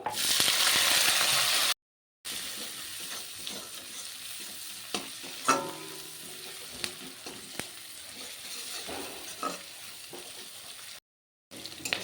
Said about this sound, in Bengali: পেঁয়াজগুলো আমি ভালো করে ভেজে নিয়েছি